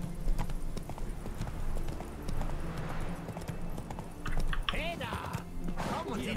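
In The Witcher 3, a horse is ridden at a slow pace with steady clip-clop hoofbeats under ongoing talk, and faint game ambience with a brief clinking near the end.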